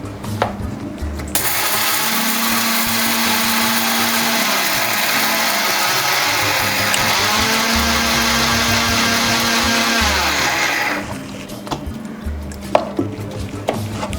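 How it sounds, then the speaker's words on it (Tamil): A mixer grinder whirs loudly and steadily as it grinds toor dal into a thick chutney for thuvaiyal, running continuously for about ten seconds with uneven pulsing before cutting off. "இருங்க நான் அரைச்சி காட்டுறேன்."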